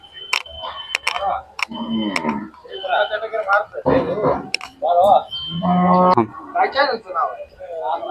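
Khillar dairy cows at a cattle market in Sangola moo in several deep, drawn-out calls mixed with people talking close by, with a few sharp clicks in between.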